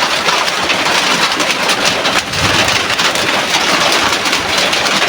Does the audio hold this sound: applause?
no